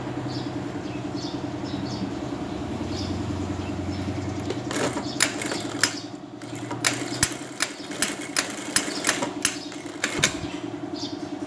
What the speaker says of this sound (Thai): ทำการเย็บนะคะ เย็บยืดหรือมัดเอาก็ได้นะ